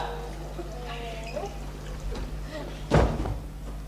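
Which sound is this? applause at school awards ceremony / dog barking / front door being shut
front door being shut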